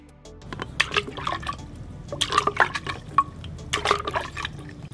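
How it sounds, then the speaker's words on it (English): An original Shinkansen model train is dunked into water: close splashing and gurgling in several bursts, with drips and sloshing between the louder splashes. "which also creates quite a splash"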